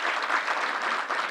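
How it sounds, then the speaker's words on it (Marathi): A theatre audience at a book launch for Chitra Palekar's autobiography applauds warmly, a brief, even burst of clapping from many hands with no voices. "तर आपण एकदा जोरदार तिच्यासाठी टाळ्या वाजवूया"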